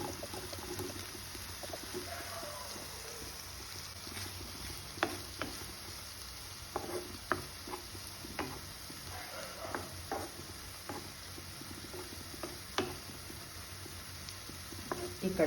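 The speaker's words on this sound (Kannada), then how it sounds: "ಈ ಕಡೆ ಫ್ರೈ ಆಗಲಿ." Small pieces of paneer frying in butter in a pan, a soft continuous sizzle with scattered light clicks and scrapes of stirring, faint and close, with no talk.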